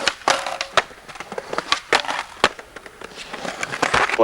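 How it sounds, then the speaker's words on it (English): Rough scraping grind of a skateboard on a hollow-sounding stone bench at Victoria Benches, with sharp clacks and bursts repeating irregularly, close and fairly loud. "Anytime you would grind it, I guess the noise is just echoing."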